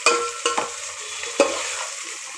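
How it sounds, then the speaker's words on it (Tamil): Tomatoes and onions sautéing in a pan for dum biryani, a soft steady sizzle with a few sharp scraping stirs of a spoon, close and fairly quiet, no talking. "தக்காளியை போட்டு நல்லா வதக்கணும்."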